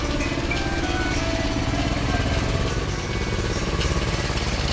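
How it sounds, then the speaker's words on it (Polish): Small motorbike engine running steadily up close at a roadside repair shop in Vietnam, a continuous buzzing drone with no talk over it. "Tutaj nawet pani ogarnia motorek."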